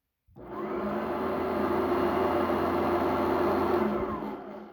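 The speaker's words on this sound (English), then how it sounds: "I'm going to run this vacuum on both modes for just a couple seconds" A commercial vacuum cleaner switches on abruptly and runs with a steady loud whirring roar, close by, then begins to wind down at the end.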